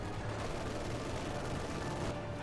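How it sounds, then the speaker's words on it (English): A ZiS artillery barrage in a Company of Heroes 2 match, heard as a steady rumble of distant blasts and crackling fire at low level, continuous throughout. "that's just a Zis barrage"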